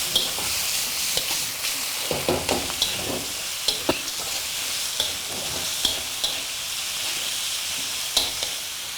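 Prawns and chicken marinated with salt, sugar and arrowroot are stir-fried in a pan for chow mein, a continuous close sizzle broken by repeated sharp scrapes and taps of the spatula.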